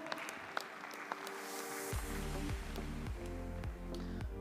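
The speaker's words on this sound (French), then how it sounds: "On peut l'applaudir s'il vous plaît." Audience applause at a Prim'Holstein dairy cattle show ring, honouring a Holstein cow; faint scattered claps at first, then dense sustained clapping over a steady low hum.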